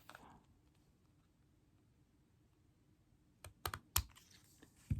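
Scissors snip excess paper from a perforated paper heart bookmark: a few sharp, close crisp cuts clustered near the end after a quiet stretch.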